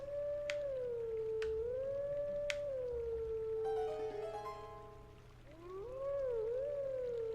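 Wolf Link howls in Zelda: Twilight Princess, a sustained tonal wolf howl that rises and falls through several pitches, joined by chiming notes and sharp plucked accents, carried over a steady low game hum.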